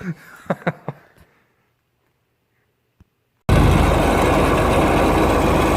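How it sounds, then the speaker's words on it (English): A snowblower engine roars to life loud and steady, a continuous close drone while the machine is moved slowly, following a few brief spoken words and a stretch of near silence. "I'm very slowly moving the snowblower up to put it in the shop"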